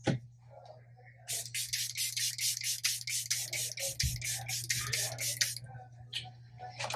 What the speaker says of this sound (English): I'm actually going to just do one more setting spray.